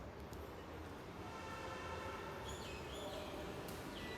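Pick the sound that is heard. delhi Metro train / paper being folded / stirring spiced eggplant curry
delhi Metro train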